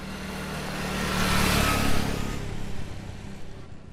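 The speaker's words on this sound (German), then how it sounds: "That was a motorcycle." A motorcycle passes by with a loud engine roar that builds, peaks, and then slowly fades away.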